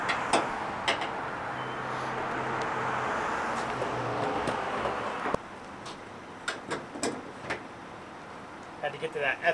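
Volkswagen Beetle with original patina paint driving on the road, a steady engine and road rumble with tyre noise, then sharp intermittent squeaks and ticks from the car body in the later part.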